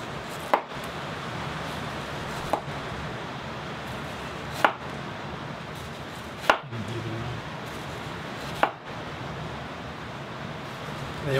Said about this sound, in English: And what we're going to do here is just cut it into slices.